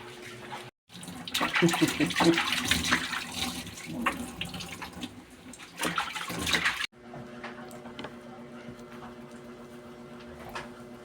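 Running water splashes and gushes for several seconds while puppies are bathed, briefly stopping and starting, then cuts to a quieter room with faint clatter.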